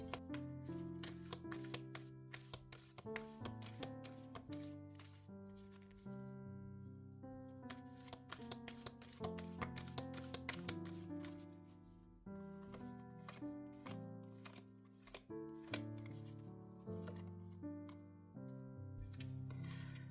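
Oracle cards are shuffled continuously by hand, a dense run of quick papery riffles and taps, soft and close, with no talking.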